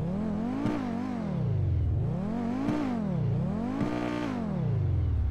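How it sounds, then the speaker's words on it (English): A Pegassi Osiris supercar in GTA 5 Online revving repeatedly, its engine note swelling and falling in three loud, even cycles with brief gear-like clicks at each peak, heard alone. "And it has an engine as well."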